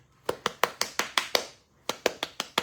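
Hands clap and pat curly hair while styling it, about a dozen crisp, evenly spaced slaps in two bursts with a short pause between, close and distinct.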